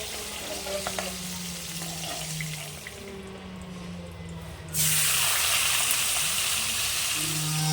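Cauliflower sizzling in hot oil in a pan, a steady frying hiss that turns louder and brighter midway, with low tonal hum beneath.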